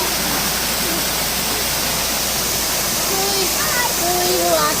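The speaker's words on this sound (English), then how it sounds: "There's a waterfall, and it is, as we're swimming in this, it's also raining." A waterfall roars steadily with rain falling during a swim, forming a loud, constant broadband rush throughout, with a few faint, brief chirps or voices near the end.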